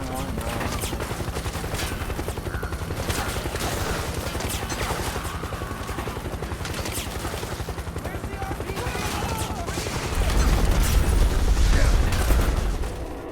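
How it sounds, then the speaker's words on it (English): PMC airstrike in the Metal Gear Solid 4: Guns of the Patriots video game, with dense continuous rattling gunfire and blasts that swell into heavier low rumbling explosions near the end, loud and sustained. "PMC airstrike!"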